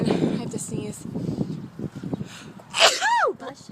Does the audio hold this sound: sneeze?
yes